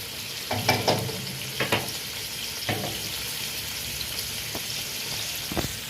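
Vegetables stir-fry in a hot pan, giving a steady sizzle punctuated by several scraping, clattering stirs. The first strokes come close together and later ones are spaced out, all close and fairly loud.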